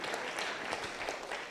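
A church congregation at a Pentecostal service claps together, many hands forming a soft, steady wash throughout, with no voices standing out.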